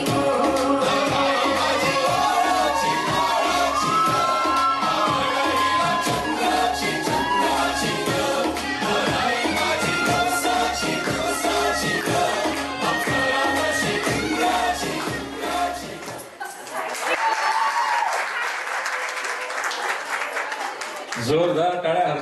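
Applause at a traditional engagement ceremony, a loud burst of clapping from the gathered crowd that swells near the end after a stretch of music.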